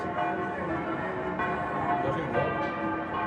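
Full peal of church bells swinging at the Santos Juanes church in Valencia, a dense, continuous clangor of overlapping bell strikes, loud and sustained, with faint voices mixed in.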